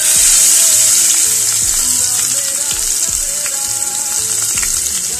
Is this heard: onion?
yes